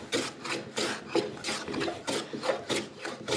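A hand plane blade shaves sapele dovetail pins and tails flush, worked diagonally across the wood in rapid, rhythmic rasping strokes, about ten close, even passes.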